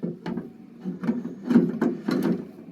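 A coin acceptor is fitted into a Cavalier CS-96a Coca-Cola vending machine. It gives a run of close, hollow knocks and scraping clunks as the metal part is slid and seated into place, with no talk.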